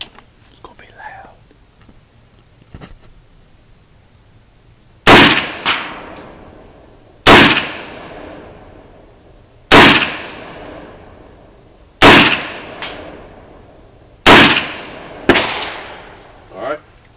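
AR-15 rifle firing five shots through a quick change muzzle adapter, sharp loud cracks spaced a couple of seconds apart with ringing decay, after faint whispered talk.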